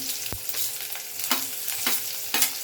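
Onion sautéing in a pan for a masoor dal curry, a steady close sizzle broken by several distinct spatula scrapes and clacks as it is stirred, with no voices.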